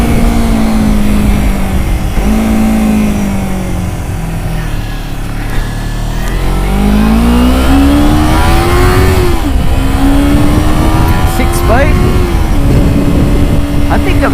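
Kawasaki Ninja 250R (EX250) twin engine revving hard toward about 14,000 RPM, loud and close, with pitch climbing, dipping and rising again through repeated throttle blips.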